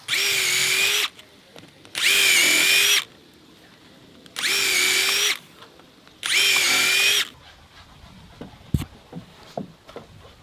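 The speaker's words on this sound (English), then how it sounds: "if I drill it right, I can get through 3 boards" A power drill bores through stacked deck boards in four loud, even bursts of about a second each with short pauses between, followed by a few light knocks and handling sounds.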